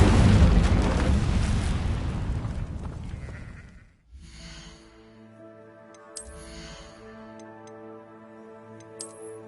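Incendio fire spell effect from a Harry Potter video game: a loud whooshing fiery burst that fades out over about four seconds, followed by quiet, sustained tonal music with a few soft chime-like accents.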